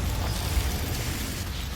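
Explosive blast of the Confringo fire spell in the Hogwarts Legacy game, a dense, rumbling burst that fills the short clip loudly without any spoken voice.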